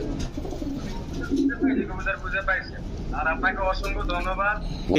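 A just-released domestic pigeon coos, with soft repeated throaty calls heard close while people talk over it.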